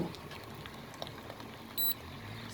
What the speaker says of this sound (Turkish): Şu anda kaynıyor zaten su.